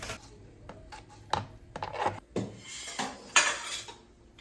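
Pots and dishes clatter in a home kitchen while curry simmers and biryani is made, with sharp metallic scrapes and clinks arriving in irregular bursts, moderately close and unaccompanied by talk.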